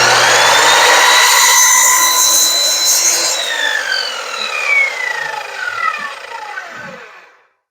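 A WEN 10-inch sliding miter saw, model MM1014, cutting a shallow dado into a wooden board: a loud close whine of the blade biting wood for about three seconds, then the motor winding down and fading to silence.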